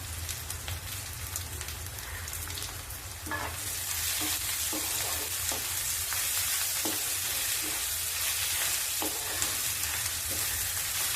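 Chopped garlic, added along with chopped ginger, sizzles and fries steadily in a pan, a close, continuous crackle with a few scraping stirs of a spoon, growing louder partway through.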